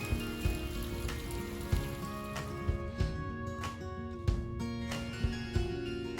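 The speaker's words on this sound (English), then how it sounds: "it is raining today, and we're getting hail as well" Rain and hail fall onto a garden, giving a steady patter over a low background, with sharper ice pellet hits standing out every second or so.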